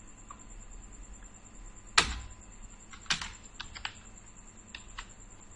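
Typing on a computer keyboard in Microsoft Word: a few sharp separate key clicks and a short burst of presses, close and crisp over a quiet background hum.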